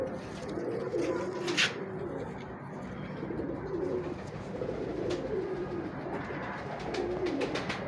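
Pigeons cooing in soft repeated throaty phrases, steady and moderately close, with a faint continuous background hum and no talking.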